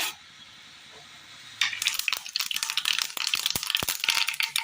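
Mustard seeds hit hot oil in a pan while a Kerala breakfast dish is cooked, starting after a quiet moment with a sudden burst of close, crackling sizzle and sharp irregular pops that continue rapidly to the end.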